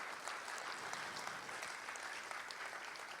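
An audience at a daughter's arangetram dance performance claps in a dense, even wash of applause that is moderately distant and carries steadily throughout.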